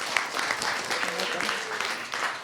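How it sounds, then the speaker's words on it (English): An audience claps for volunteers at a live body language show, a short burst of scattered, moderately loud applause from a room full of people, with a voice briefly audible over it. "round of applause for them again"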